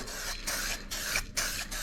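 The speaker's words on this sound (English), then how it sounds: "I might as well go ahead and spray the tank" Spray gun laying 2K primer onto the tank of a 1957 VW Oval Window Beetle, a steady close hiss broken into several bursts with short gaps between passes.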